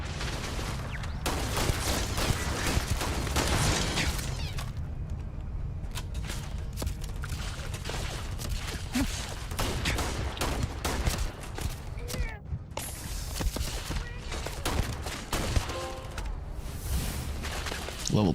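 Rapid gunfire from a gun in Starfield, dense repeated shots and bursts over steady game noise with a voice talking at times.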